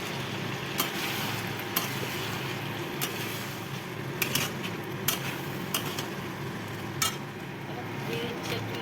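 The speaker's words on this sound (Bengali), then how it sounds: "এই যে মাংসটা কষাচ্ছি, এখনও ভাজা ভাজা হচ্ছে, ঢাকা দিয়ে দিয়ে ভাজছি।" Meat sizzles with spices in a pan, a steady, close frying hiss under sharp clinks and scrapes of a spoon stirring against the metal.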